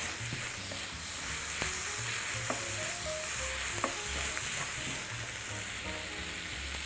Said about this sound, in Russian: Хорошенько перемешиваю.